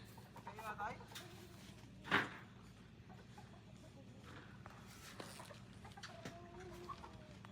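Chickens cluck and chatter faintly in the background, with one sharper squawk partway through, under a low steady ambient hum.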